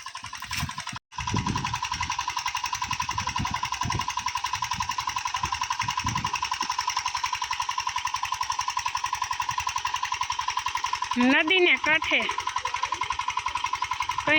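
A pesticide spraying machine runs in a farm field, its engine giving a steady, loud mechanical drone throughout, with people talking over it in the first half.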